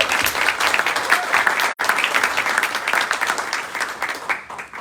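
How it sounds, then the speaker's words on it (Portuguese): Audience applauding event workers at a Brazilian stage event, a dense, steady clatter of many hands that breaks off for an instant partway through, then resumes and fades slightly toward the end. "Então eu gostaria de mais uma salva de palmas para todos os trabalhadores"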